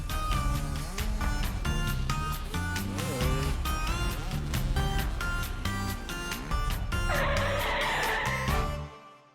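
A cartoon bus brakes hard and skids, a long tire-squeal screech sitting over busy music that runs throughout, with a bright hiss toward the end before it cuts off.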